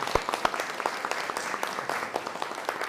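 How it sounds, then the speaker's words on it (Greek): Audience applause at a Christmas event of Byzantine hymns and youth dancing in Metaxades, Evros: scattered, fairly sparse hand claps at moderate level, with distinct individual claps standing out in a room. "Ένα ζεστό χειροκρότημα μέσα από την καρδιά μας."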